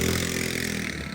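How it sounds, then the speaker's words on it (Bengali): A boat engine running on a river trip in Bandarban, a loud steady low droning hum close by for a brief moment, with no voices. "এখানে বোটের সাউন্ড অনেক বেশি পরিমাণ, বোটের সাউন্ড"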